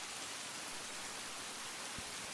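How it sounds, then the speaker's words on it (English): Steady rain in a video game fills the scene with a soft, even, continuous hiss, faint and unbroken throughout, with no talking. "I listen to the sound of the rain."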